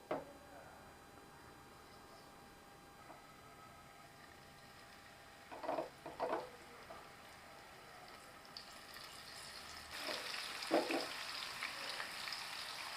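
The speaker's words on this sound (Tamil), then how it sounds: "மிதமான ஹீட்டில் வச்சு 2 சைடும் மாற்றி பொரிச்சு எடுத்துக்கோங்க." Sea bass pieces fry in oil in a kadai over medium heat, a faint steady sizzle with a few brief louder crackles and spatters, quiet and close.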